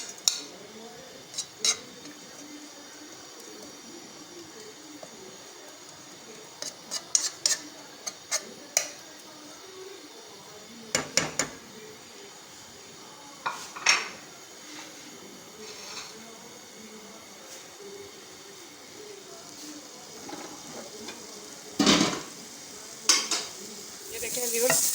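Garlic and ginger frying in about a tablespoon of oil in a pan give a faint, continuous sizzle, broken by scattered clinks and taps of a utensil stirring against the pan.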